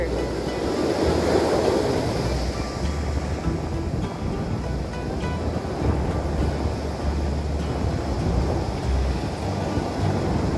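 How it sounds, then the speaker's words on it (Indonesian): Strong wind roars across the microphone at a seaside fishing spot, with surf rumbling underneath in a steady, loud wash throughout. "anginnya wis banter."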